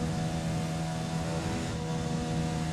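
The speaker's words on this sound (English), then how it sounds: "Our engine just genuinely sounds flat." A flat-sounding Formula 1 car engine at Silverstone in the F1 2020 video game, a steady, droning whine held at constant pitch, loud and continuous with no talk.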